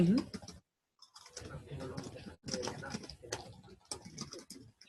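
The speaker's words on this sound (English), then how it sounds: "is that the sound of you typing?" Rapid clicking keystrokes rattle on a keyboard close by, broken by a short pause, with faint voices talking quietly underneath.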